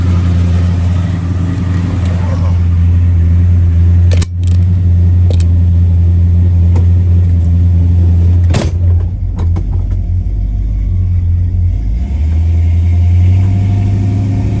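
A 1966 Chevrolet Impala engine drones loudly and steadily from inside the car, a deep low hum with a few brief thumps and clicks as it drives along.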